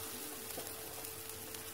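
Grated coconut, shallots, dried chillies, ginger, cumin and black pepper sauté in a pan for a drumstick-flower and moong dal thoran, giving off a faint, steady sizzle with no one speaking.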